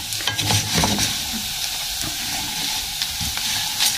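Ingredients for Chinese-style rice sizzle and brown in a hot pan, with a dense, continuous crackling fry close by and soft stirring bumps throughout.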